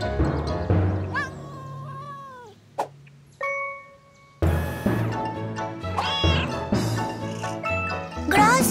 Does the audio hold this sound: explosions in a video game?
no